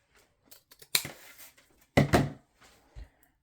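Scissors snip through ribbon while a bow is being made, giving two or three crisp, close cuts with short rustles of ribbon between them and no talking.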